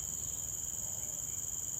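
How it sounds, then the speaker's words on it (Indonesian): A grasshopper in a Kalimantan forest camp keeps up a steady, high, continuous buzzing chirp, with faint low rumble beneath. "Suara belalang. Nging, nging, nging."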